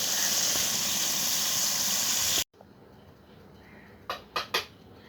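A cooking pot of simmered kochur loti lifted off a hissing stove, the burner roar cutting off abruptly, then a few faint metallic clinks of the pot in a quiet kitchen.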